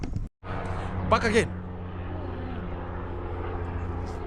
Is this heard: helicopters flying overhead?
yes